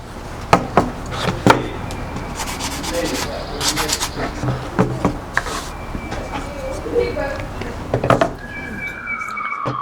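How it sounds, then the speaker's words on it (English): Steady rasping of sandpaper rubbing over scrap wood for a planter, with scattered knocks and taps as the piece shifts, close by and continuous. "now we finish our sanding"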